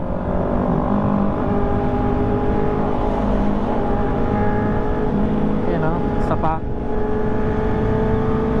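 A car fitted with a Villain R9 exhaust drones steadily nearby in traffic, with a brief rising rev partway through, while people talk over it.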